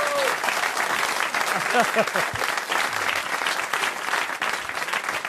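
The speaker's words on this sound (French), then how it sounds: "On applaudit très fort Robert Marchand." A French radio-TV studio audience applauds loudly and continuously for Robert Marchand, dense clapping filling the whole stretch, with brief voices and laughter mixed in near the start.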